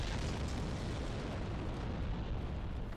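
A firebomb blast from the video game Dark Souls in Sen's Fortress, a dense, sustained roaring boom with a heavy low rumble that fills the whole moment at an even, loud level with no voices.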